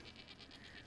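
A goat in the Enshrouded video game lets out a brief, faint, pulsing bleat, alone and quiet.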